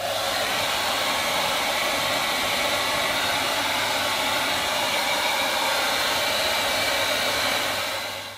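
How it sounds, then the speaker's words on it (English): A full-size household hairdryer runs steadily off a campervan's lithium battery inverter, a loud constant blowing whir that holds unbroken for about eight seconds before tailing off slightly. "I'm really loving the ability that I can actually take my proper hairdryer"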